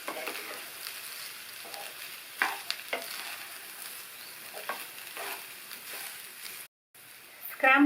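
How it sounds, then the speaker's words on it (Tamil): A spoon gently mixes cooked rice in a hot pan for egg fried rice, a steady sizzle with soft scraping strokes and a few light knocks, a brief dropout and a louder clatter near the end. "சாதம் சேர்த்ததுக்கப்புறமா ஒரு தடவை நல்லா மெதுவாக மிக்ஸ் பண்ணி விட்டுட்டு"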